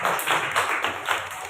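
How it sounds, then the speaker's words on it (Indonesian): Classroom applause for a student named Fatih, a dense, steady patter of many hands clapping together, fairly loud and close, lasting the whole moment. "Tepuk tangan untuk Fatih."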